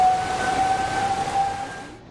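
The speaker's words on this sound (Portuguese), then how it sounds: "Sirenes foram acionadas em pelo menos 19 comunidades" Civil defense siren sounding in a Rio de Janeiro community (Rio das Pedras) during heavy rain: a steady, wailing tone heard from a distance over a broad rushing background, fading at the end.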